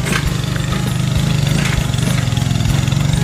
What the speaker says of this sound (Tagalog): Kaya ang lakas lang talaga ng motor.